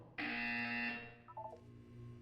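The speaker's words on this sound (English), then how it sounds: "When you hear the buzzer, look down at the floor." A loud, harsh electronic buzzer in the video game Portal 2 blares for about a second, followed by a quick descending run of short game-like tones.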